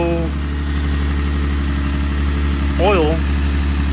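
Rebuilt Infiniti G35 engine idling steadily nearby, a low even rumble with a faint tick, while a person talks briefly over it.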